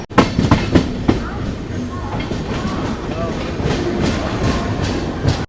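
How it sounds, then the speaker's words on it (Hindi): The 12703 Falaknuma Express pulls out of Cuttack railway station, its wheels clattering in a loud, steady rhythm with occasional squeals, heard from on board with faint voices underneath. "हमारी ट्रेन डिपार्ट कर रही है कटक"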